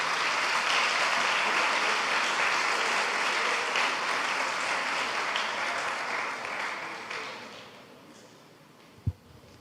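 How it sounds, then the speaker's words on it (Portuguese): The single members of a church congregation give a sustained round of applause, a dense, even wash of clapping that gradually fades and ends with one sharp final clap. "Eu posso ouvir um aplauso dos solteiros"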